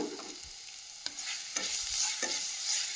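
Mustard seeds, curry leaves and a ground garlic paste frying in hot oil, a soft sizzle with a few sharp stirring scrapes and clicks, close but fairly quiet.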